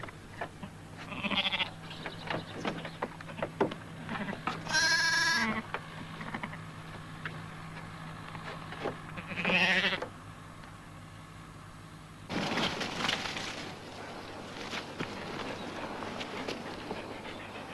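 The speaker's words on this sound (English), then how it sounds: "The adoptive ewe is penned up with the new lamb for at least a day" Sheep bleat in a pen where a ewe is kept with a newborn lamb. A few loud, wavering calls come at intervals over a quiet farm background, with no speech.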